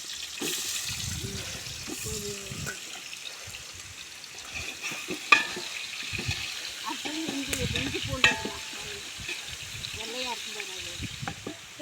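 Onions go into hot oil with bay leaf and salt for chicken biryani, sizzling and frying with soft stirring clatter while a person talks over it throughout.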